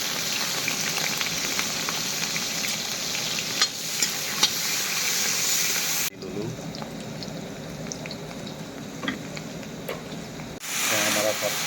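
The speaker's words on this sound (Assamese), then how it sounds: "তেল গৰম হৈ গ'ল। এতিয়া পিঁয়াজ জলকীয়া আগতে ভাজি কৰি লওঁ।" Onion and chilli sizzle in hot oil in a home kitchen, a loud crackling hiss with occasional stirring clatters; the sizzle drops abruptly partway, then flares up again near the end.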